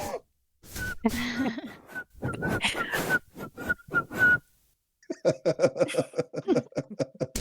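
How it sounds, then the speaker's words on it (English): A person whistles a short, innocent-sounding tune, the thin wavering notes coming in bursts with brief gaps, followed by a stretch of rapid, breathy, rhythmic sounds. "Whistling innocently."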